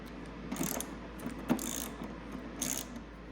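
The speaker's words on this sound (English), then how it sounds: "We're going to use that 6 millimeter hex or Allen wrench to pull that out." A 6 mm hex wrench ratcheting to remove an engine guard bolt on a Husqvarna Norden 901 motorcycle, a few faint clicking turns spaced over quiet background.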